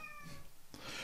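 A cat meows once, a short tonal cry with harmonics near the start, followed by a brighter rustling noise; the sound is close and fairly quiet with no talking.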